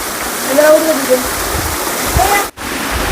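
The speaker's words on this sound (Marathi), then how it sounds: "सुंदर असा धबधबा या ठिकाणी आहे" A steady broadband rush of falling water from a waterfall in the Sahyadri hills fills the scene, with a voice speaking over it and faint bird chirps.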